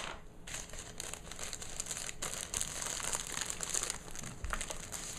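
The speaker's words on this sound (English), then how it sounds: "Foil paper is not great to work with." Foil wrapping paper crinkles and crackles up close as a present is wrapped, in bursts of sharp rustling that swell and ease with handling, no talking.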